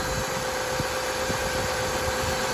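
A 2.2 liter four-cylinder car engine idles steadily after a cold start, a continuous low rumble with a faint high whine, close and even for the whole stretch with no talk.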